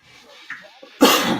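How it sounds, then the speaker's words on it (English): A man clears his throat with a few soft rasps, then gives one loud, harsh clearing burst up close at the end, alone with no talk over it. "Gotta clear my throat."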